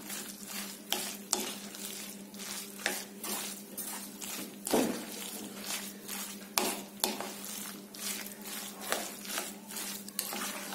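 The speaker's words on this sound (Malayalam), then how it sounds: "നമുക്കിതെല്ലാം കൂടെ നല്ലവണ്ണം മിക്സ് ചെയ്തെടുക്കാം" A spoon stirring a cooked noodle mixture with chili powder in a bowl for Maggi noodle balls, giving repeated rhythmic scraping and squelching strokes, soft and close, with an occasional clink against the bowl.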